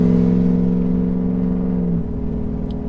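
A Ford F-150 with a Corsa Extreme exhaust accelerates toward 70 mph, giving a steady, loud, low drone from inside the cab that drops in pitch about two-thirds of the way through, like an upshift.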